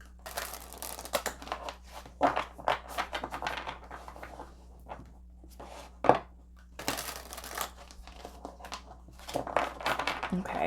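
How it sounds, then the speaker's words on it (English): Tarot cards are shuffled by hand in irregular riffling and crinkling bursts, close and soft, separated by quiet gaps. "Let's give these a quick shuffle."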